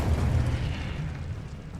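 A fiery spell effect from the Hogwarts Legacy video game gives a loud, rumbling burst that booms at the start and then trails off into a roaring whoosh.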